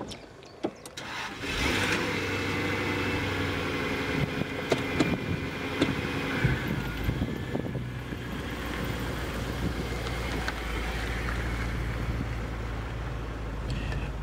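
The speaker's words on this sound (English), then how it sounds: "should we fire up the old... supercharged V8" A 2001 Jaguar XKR supercharged V8 cranks and fires, then settles into a loud, steady close-up idle rumble with a few blips of revving.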